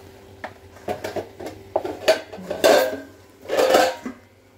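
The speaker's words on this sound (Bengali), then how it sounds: "এবার এটাকে ঢেকে দেবো।" A metal lid is set onto a cooking pot with a run of close, sharp clanks and rattles: several quick metallic knocks followed by two longer ringing clatters as it settles, with no talking.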